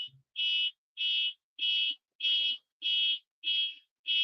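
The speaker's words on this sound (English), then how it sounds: "the car alarm is going off of the car in front of me." A car alarm sounds from the car just ahead, giving seven loud, evenly spaced electronic beeps, each about a third of a second long, with steady gaps between them.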